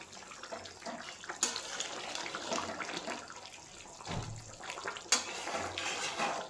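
Water poured into a pot to make the gravy for a duck curry with bean seeds, a continuous close splashing and trickling stream with a couple of sharp clinks.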